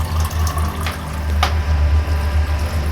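Water is poured from a tap or vessel into a pot of drumstick (moringa pod) curry during cooking, a steady splashing flow with a low rumbling hum underneath, close up and without talk.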